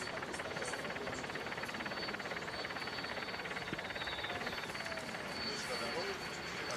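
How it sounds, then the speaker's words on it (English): A helicopter hovers above a road cycling race on Tour of Turkey stage 2 from Alanya to Kemer, its steady rotor and engine drone continuous and moderately loud, with a commentator talking over it. "You see that helicopter down below, just waiting for them to exit one of the tunnels today."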